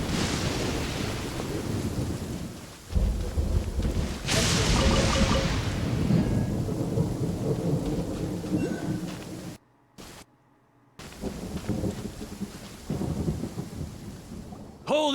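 Game-world thunderstorm in a forest from Genshin Impact: heavy rain hiss with deep rolling thunder cracks, loud and close, broken by a brief silent dropout near the end.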